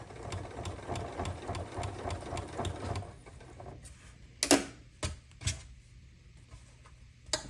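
A sewing machine stitches binding onto a fabric stitch case, a quick run of evenly spaced needle strokes for about three seconds, then stopping into a few scattered clicks and knocks as the fabric is adjusted.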